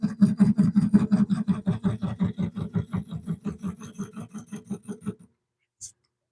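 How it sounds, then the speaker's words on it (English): Lathe tool scraping a spinning birch or maple bowl during live woodturning, a rhythmic rasping pulse repeating about four times a second for five seconds before stopping, followed by one faint tick. "It's scraping all the way around, so it's really not too far out"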